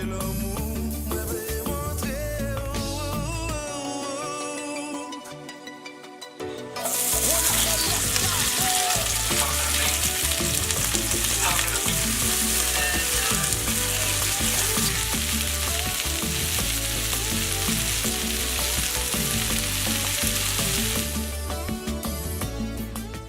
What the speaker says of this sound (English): After chopping up some red bell peppers, mushrooms, and onions, it's time to saute them.